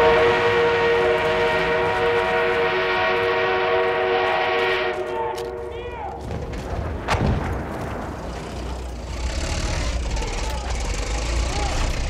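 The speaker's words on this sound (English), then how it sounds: "Armored train is en route." An armored train in a Battlefield 1 multiplayer match sounds a long, loud, steady horn-like blast, then gives way to rumbling movement, thuds and explosions, with rising clatter toward the end.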